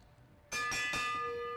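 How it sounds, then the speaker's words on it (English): A lap bell at a downtown Detroit bicycle race strikes a few times and then rings on with a sustained metallic tone, moderately near over crowd ambience. "And we're going to hear a bell."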